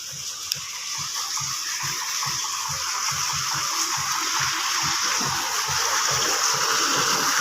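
Water runs steadily into a concrete catfish pond, a constant close gushing hiss with faint low splashing underneath and no voices.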